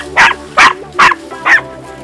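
Four loud, sharp barks from a Podenco Andaluz hunting dog during a rabbit hunt, evenly spaced about every 0.4 seconds and close to the listener.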